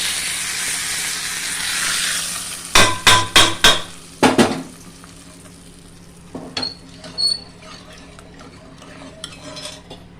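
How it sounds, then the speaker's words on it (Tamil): Broadband hissing sizzle of curry leaves dropped into hot oil, followed by sharp crackling pops and a few scattered spits as the frying settles. "வெறும் கருவேப்பிலை இது மட்டும் போட்டு தாளிக்கிறேன்"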